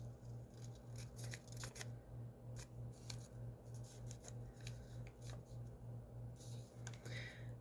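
Paper is folded into an origami crane, giving soft, close crinkles and creases scattered over a steady low hum, quiet and intimate.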